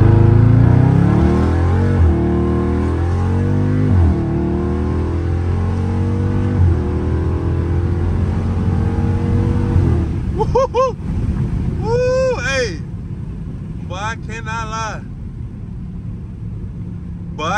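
A Dodge Charger Scat Pack in manual mode launches from a dead stop, its loud engine note climbing through rising revs over several seconds, followed by brief sharp whining bursts as the car pulls away.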